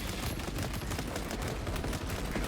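Heavy grenade launcher firing in the video game Space Marine 2, amid a horde battle: continuous dense barrage of blasts and gunfire, loud and unbroken throughout.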